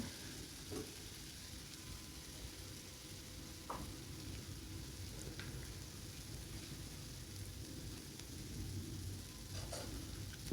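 Spices fry in hot oil in a pan, giving a steady, low sizzle throughout with occasional faint scrapes from stirring.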